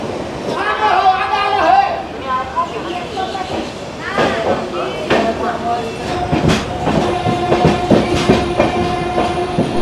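Amrit Bharat Express train pulling out and running on the tracks, loud and close, with rhythmic clickety-clack of wheels, some squeal and horn-like tones, and voices talking over it.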